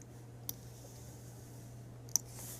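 A computer mouse clicking in music notation software: two sharp, isolated clicks about a second and a half apart over a low electrical hum, with no talking.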